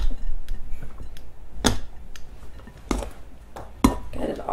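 A spoon stirs shredded cheddar cheese into a dish, giving irregular close clinks and scrapes against the bowl, with a few sharper knocks standing out over a low background hum.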